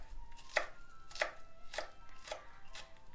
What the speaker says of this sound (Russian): порежем всю луковицу